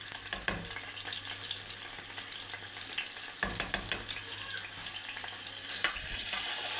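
Tomato sauce for Egyptian koshari frying in a pan, giving a steady, close sizzle with occasional clinks and scrapes from stirring. No voices are heard.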